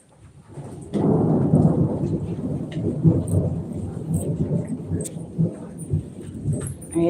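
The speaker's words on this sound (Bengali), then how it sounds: "বজ্রপাত তো শুনতে পাচ্ছেন কীভাবে বৃষ্টি হচ্ছে" Heavy rain pours steadily while deep thunder rolls in after a quiet start, then rumbles and fades under the continuing downpour.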